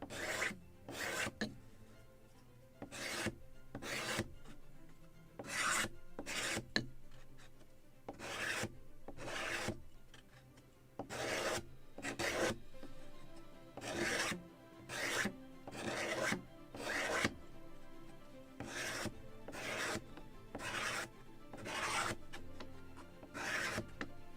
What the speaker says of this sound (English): The final sanding will level everything.